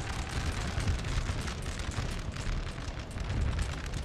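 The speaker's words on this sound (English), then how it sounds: "shift my artillery fire into the centre" Continuous rumbling battle din of massed artillery and musket fire in Napoleon: Total War, dense overlapping booms and crackle held at a steady loud level throughout with no pauses.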